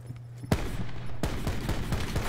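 Rapid gunfire from a gun in Call of Duty 4 Gun Game: a burst of close, loud shots, a short pause, then another run of repeated shots over steady game background noise.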